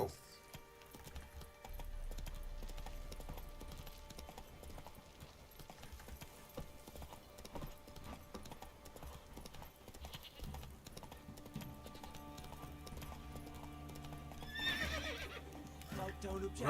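In the Witcher 3 video game, the horse Roach gallops with steady clip-clop hoofbeats and gives a whinny near the end, while a voice talks over it.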